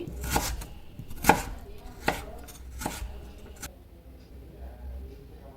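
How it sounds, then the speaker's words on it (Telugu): A big onion is chopped into small pieces on a cutting board in a home kitchen, with sharp knife strikes landing at an uneven, unhurried pace. The strikes are fairly close and clear over quiet background hiss, with no talk. "ఒక పెద్ద ఆనియన్ అయితే చిన్న చిన్న పీసెస్గా కట్ చేసి పక్కన పెట్టుకోండి."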